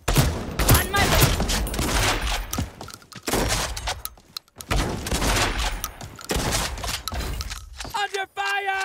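Machine gun fire erupts in the online battle game Realm Royale, with dense bursts of rapid shots and impacts mixed with game effects. Voices talk throughout.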